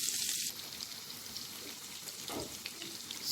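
Butter sautéing in a hot pan for chicken pâté gives a soft, steady sizzle with light crackles and one brief stirring scrape, fairly quiet and close.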